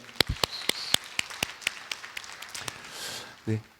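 A church congregation claps in praise during a worship service, a scatter of sharp individual claps spread out over a few seconds rather than a full roar, with a brief low vocal sound near the end.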